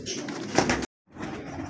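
Soft, low cooing from pigeons handled by a breeder, two short murmuring bursts split by a brief silence, close and fairly quiet.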